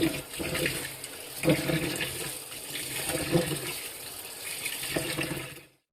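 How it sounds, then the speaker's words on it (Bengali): Rice for biryani being rinsed in water: a steady, close rush and splash of running water with intermittent sloshing pulses, fading out at the end. "আমি এখন চাউলগুলো ধুয়ে ঝরতে দিব।"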